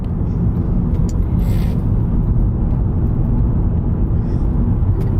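A car driving, heard from inside the cabin: a loud, steady low road and engine rumble that fills the whole stretch, with no voices.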